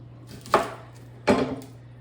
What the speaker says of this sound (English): I always like to start with just chopping the veg